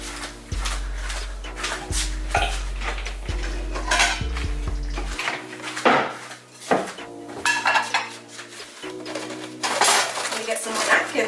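Plates and cutlery clink and clatter as a plate is fetched in a home kitchen while mini banana fritters are being cooked, a string of close, sharp knocks and jingles with a few quiet words spoken.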